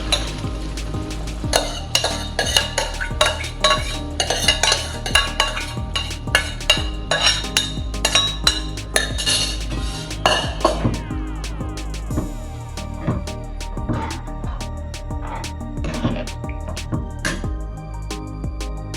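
Cooked sprout curry (usal) is scraped from a pressure cooker into a pot, giving repeated metal spoon clinks and scrapes in an uneven rhythm over a sizzling fry. The clatter is close and lively at first and eases later, with no speech.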